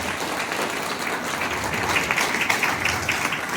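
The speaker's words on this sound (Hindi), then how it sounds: "एक बार इन सब के लिए तालियां बजा दो यार," A large seminary audience bursts into steady, dense clapping, loud and close, holding throughout with a slight swell toward the end.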